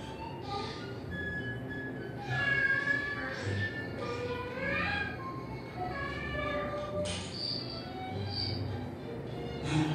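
A cat meows several times, each call a rising and falling wail, heard at moderate distance over a constant background rumble.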